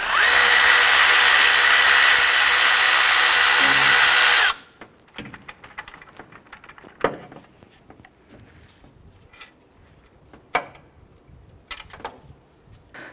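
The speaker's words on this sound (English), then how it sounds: "Let's go ahead and remove this upper pivot bolt" A power tool spins loudly for about four seconds, removing the upper pivot bolt of the alternator on a 2001–2005 Honda Civic, then cuts off into scattered metallic clicks and taps from nearby handling.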